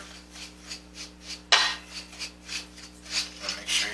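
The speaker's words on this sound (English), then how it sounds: "take my sugar, take my cinnamon, mix this all in." Sweet potato pie filling being stirred with sugar and cinnamon gives a steady rhythm of soft scraping strokes against a bowl, with one sharper clink midway, close and moderately quiet.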